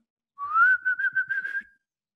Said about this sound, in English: It's a good whistle right there.